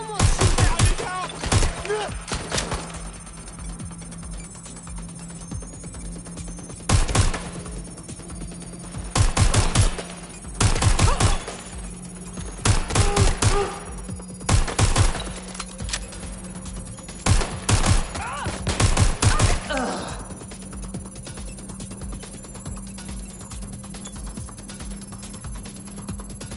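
Repeated bursts of rapid automatic gunfire in the video game Watch Dogs: Legion, loud and clustered in several volleys with short gaps, over a steady electronic hum.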